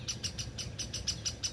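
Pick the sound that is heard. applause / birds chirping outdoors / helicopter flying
birds chirping outdoors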